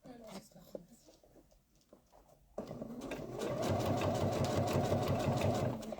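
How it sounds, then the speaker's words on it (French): A sewing machine runs a straight stitch through several layers of fabric with cotton bias binding, whirring loudly and steadily for about three seconds after a quieter stretch of light handling noise. "là on est en train de coudre plusieurs épaisseurs, plus du biais coton qui bloque un petit peu tout ça"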